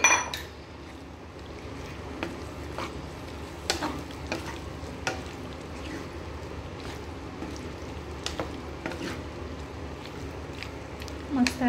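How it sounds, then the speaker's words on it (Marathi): Cooked vegetables are stirred into chicken pasta in a sizzling pan, with a steady frying hiss and irregular scraping clicks of a utensil against the pan, fairly close, continuing evenly throughout. "आता ही भाज्या ज्या आपण करून घेतल्या ते सगळ्या याच्यामध्ये मिक्स करणार आहे मी"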